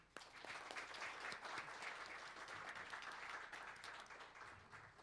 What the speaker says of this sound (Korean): 정가병 고문님을 큰 박수로 환영 부탁드립니다